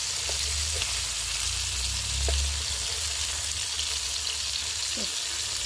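Pieces fry in a pan with a steady, close sizzle and a few light scrapes as they are turned one by one, without anyone speaking.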